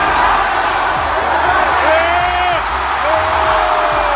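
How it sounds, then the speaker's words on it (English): Lakers game crowd in an arena chants for free tacos, a broad roar of many voices with some rising whoops and yells, loud and sustained throughout. "which is why the crowd is chanting"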